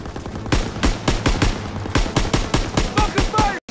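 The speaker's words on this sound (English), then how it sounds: "Covering fire on the MG!" Rapid machine gun fire from an MG pillbox in Call of Duty: WWII, a loud, close burst of repeated sharp shots in quick rhythm that cuts off abruptly at the end, with faint voices underneath.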